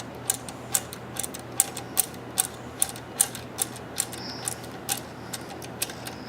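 A special wrench threads a valve back into a Neptune 500-series pump, giving evenly spaced sharp ratcheting clicks over a low steady hum.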